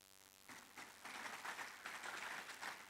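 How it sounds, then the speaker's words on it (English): Audience applause at the commissioning of an AI UniPod at UNILAG in Lagos, starting after a brief hum and swelling into scattered, moderately distant clapping from a seated crowd, fairly faint overall. "I think this is a good place to clap"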